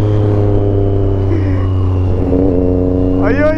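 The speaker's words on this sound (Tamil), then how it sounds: "அண்ட் இன்லைன் 3 பியூராக இருக்கும் சவுண்டு, ரொம்பவே பியூராக இருக்கும்" A Triumph Daytona 675 inline-three motorcycle with a modified exhaust hums loudly and steadily, then its pitch climbs in a sharp rev near the end, with a voice talking over it.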